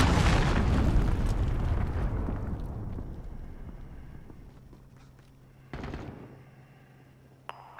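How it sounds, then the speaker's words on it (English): Heavy cruise missile explosions in Call of Duty Modern Warfare 2019 on the Grazna Raid map: a massive boom that rumbles and decays over several seconds, followed by a second, shorter blast and a sharp crack near the end. "Enemy cruise missile!"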